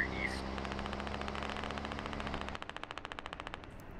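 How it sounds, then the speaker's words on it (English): Assault rifle fire in the video game Squad, a rapid burst of shots rattling steadily over a low engine drone, then sharper distinct rounds cracking in quick succession near the end. "AR rounds are also flying through"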